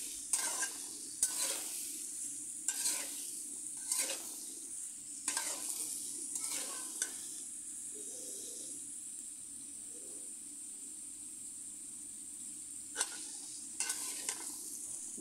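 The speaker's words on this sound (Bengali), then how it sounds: "এবারে হলুদ গুঁড়ো, লবণ দিয়ে কিছুক্ষণ আমি সবজিগুলোকে" Vegetables fry gently with turmeric powder and salt in a pan, a soft steady sizzle punctuated by regular scraping strokes of stirring, fairly quiet and close.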